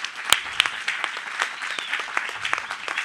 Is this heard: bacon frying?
no